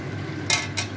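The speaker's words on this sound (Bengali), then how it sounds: "এখন আমরা ভাজা আলুটা এর মধ্যে দিয়ে ভালো করে কষাবো।" Spicy mutton curry with fried potatoes being stirred in a pan: two short metallic scrapes of a utensil against the pan over a low steady kitchen hum, fairly close.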